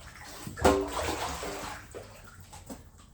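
Water gurgles and rushes as it is siphoned out through a hose, a sudden splashy surge followed by fading sloshing and trickling.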